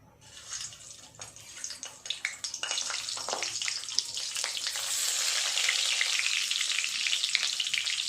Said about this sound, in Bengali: তেলটা গরম হয়ে গেছে, এবার পটলগুলো এক এক করে দিয়ে ভেজে নেব।